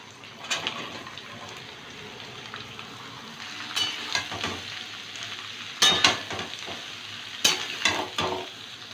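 Snake gourd pieces drop into a pan of fried onions and green chillies, setting off a soft sizzle with bursts of sharper crackling and stirring scrapes, close but fairly quiet.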